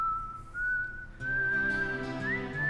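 A steady, clear whistled tone in the video game Wild ARMs holds a single sustained pitch, rising slightly near the end, over a soft musical background, loud and close with no talk.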